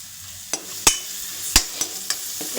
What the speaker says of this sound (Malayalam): ഇപ്പം ശകലം നമുക്ക് എണ്ണ ഒഴിച്ചു കൊടുക്കാം.